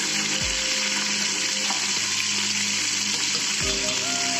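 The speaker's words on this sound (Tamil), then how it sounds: "வெங்காயத்தை நம்ம போடுறோம், பச்சை மிளகாய் போடுறோம். இது வந்து நல்லா வதக்குறோம்." Onions and green chillies sauté in a pan for mutton biryani, a loud, steady sizzle with a constant hiss throughout and no talking.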